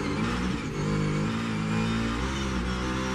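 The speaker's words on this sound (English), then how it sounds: "I love to listen in and just how gingerly these guys have to drive these cars." NASCAR Cup Series stock cars race on a street course, a steady loud engine drone with harmonics rising and shifting as the cars drive through, continuous and close with no talk.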